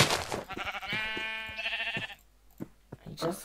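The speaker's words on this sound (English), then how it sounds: "Oh, sheep!" Minecraft sheep bleat in a few wavering, nasal calls, fairly close, with a player's voice talking and laughing between them.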